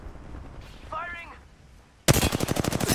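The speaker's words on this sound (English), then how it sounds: "Listen up, I'm getting shot at. Shot fired at me." In Apex Legends, an automatic weapon fires a rapid burst of loud, evenly spaced shots, preceded by a brief quieter electronic game effect and low ambient noise.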